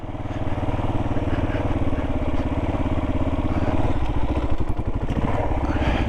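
A Kawasaki KLR650 Gen1 motorcycle's engine chugs steadily and loudly up close while riding over off-road dirt mounds, with rhythmic pulsing and some clatter throughout, no talking.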